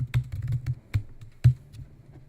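Close-up typing on a computer keyboard: a short burst of several crisp keystrokes in an uneven rhythm, with no voice.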